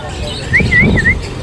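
Caged parrots or mynas kept for sale in Dhaka, such as Alexandrine parakeets, give a few short, close whistled chirps over a low background hum.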